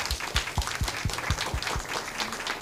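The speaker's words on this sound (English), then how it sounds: "So I'd be grateful if you could give our panelists a round of applause" Audience applause for the panelists at the close of an interactive panel discussion, a steady burst of many hands clapping with dense low thumps, sustained at moderate loudness for a few seconds.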